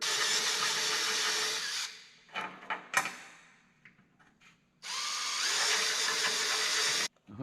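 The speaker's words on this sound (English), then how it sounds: "So now we just got to drill it out to the right size to go over the shaft on the carburetor." A power drill bores out an aluminum rivet nut to fit a carburetor shaft on a Tucker snow cat. Two sustained, close whirring runs of the drill are separated by short clunks and handling noises.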